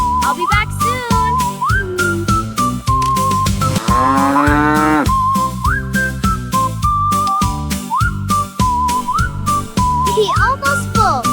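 Cartoon cow mooing in a kids farm animal song, several drawn-out musical moos and whistle-like slides over a bouncy backing track, loud and upfront.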